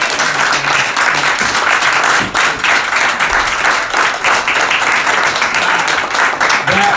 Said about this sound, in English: Marianne Williamson, give her a round of applause.